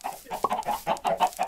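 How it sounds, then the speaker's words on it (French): Chickens clucking in a video game, a busy run of short repeated clucks close by with no talk over them. "Donc, on a beaucoup de poulets."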